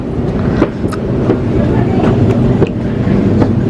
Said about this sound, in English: Alright guys, train's here.